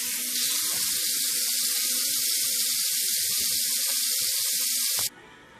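Water runs steadily from a kitchen tap over chicken wings in a colander, a loud continuous hiss of draining water that stops abruptly near the end.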